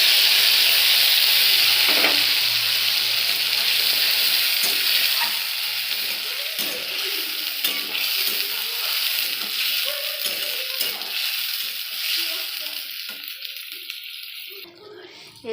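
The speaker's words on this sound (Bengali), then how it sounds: "আলুটা ভাজা হয়ে গিয়েছে, এবার বেটে রাখা মশলাটা দিয়ে দিলাম।" Ground spice paste hits fried potatoes in a hot pan for a vegetarian banana-flower curry, giving a steady, loud sizzle that softens slightly over time, with occasional stirring clatter close by.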